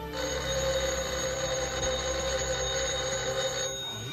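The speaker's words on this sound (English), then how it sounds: "Let it ring. Oh, it will only keep on ringing." A telephone bell rings continuously with a bright metallic trill for a few seconds, then abruptly stops.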